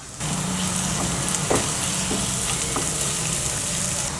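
Turmeric powder frying in hot oil for a Kerala-style bitter gourd thoran, a steady close sizzle with a few light stirring clicks and no talking.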